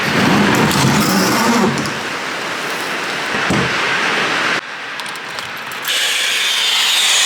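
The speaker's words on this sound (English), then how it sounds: "let's just open up the garage door to make sure we've got fresh air coming in" A garage door being opened in a home garage, giving a loud continuous rumbling, scraping roll that shifts level partway through and then settles, with no talk.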